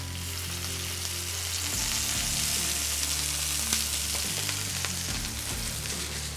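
Bologna frying in avocado oil on a griddle, a loud continuous sizzle with crackles and pops over a low steady hum, close by and free of talk.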